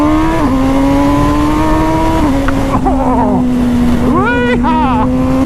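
A 2020 MV Agusta Brutale 1000 RR super naked motorcycle with quick shifter and auto-blipper is ridden on the road: a loud, close engine drone dips at shifts, then climbs sharply in rising revs, with wind buffeting the microphone.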